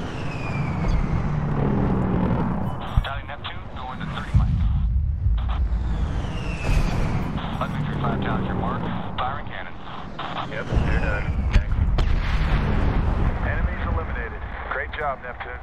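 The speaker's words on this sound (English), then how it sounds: "Firing cannons" Heavy cannon fire booms repeatedly amid roaring engines and explosions in Medal of Honor, with voices talking over the loud, chaotic game soundscape.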